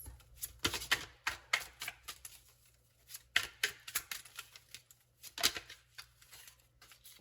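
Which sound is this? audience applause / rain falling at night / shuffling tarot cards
shuffling tarot cards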